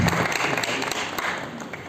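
Audience clapping at a Bhojpuri music event in a Lucknow hotel, a dense, steady wash of applause filling the whole moment, fairly loud and close, with faint voices mixed in.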